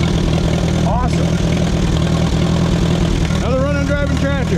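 An Oliver 550 tractor engine running at a steady idle, a loud continuous low throb with voices speaking briefly over it.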